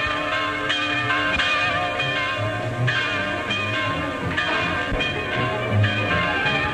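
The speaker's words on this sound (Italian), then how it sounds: "Campane del Sabato Santo." Church bells ring continuously for Holy Saturday, several tones overlapping in a dense, resonant peal that fills the whole clip at steady loudness.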